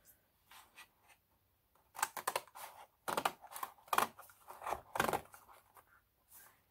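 Crisp snipping and crunching of big-handled scissors cutting composition notebook paper, in several quick bursts with short pauses between, close and fairly loud.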